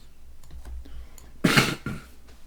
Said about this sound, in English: I'm going to hit 7 on the keyboard.